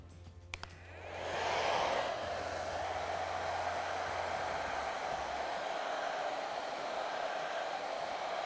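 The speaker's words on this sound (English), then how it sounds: "you need the air of the hairdryer distributed really on a wider basis" A hair dryer switches on with a small click and blows steadily, a constant whooshing roar close to the microphone.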